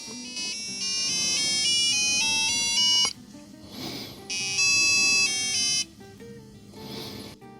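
A TEC-1 Z80 vintage computer plays a musical scale as sharp square-wave beeps stepping through pitches, in two loud runs separated by noisier pauses, with no voices.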